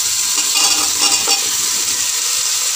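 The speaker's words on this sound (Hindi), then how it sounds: "ये हमने कद्दू कट करके रखा है, हम इसमें सबसे पहले कद्दू ऐड करेंगे।" Pumpkin and bottle gourd hit hot oil in a frying pan for onion- and garlic-free sambhar, setting off a loud, steady hissing sizzle with a few soft stirring knocks, close up and without talking.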